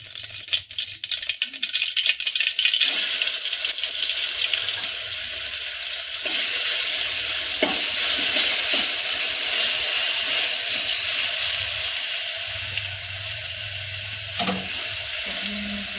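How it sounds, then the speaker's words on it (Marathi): Cumin and mustard seeds sizzle in about two ladles of hot oil as tempering for a drumstick-pod vegetable dish, a steady hissing fry with scattered crackles and pops. "तर जिऱ्या मोहऱ्याची फोडणी देते."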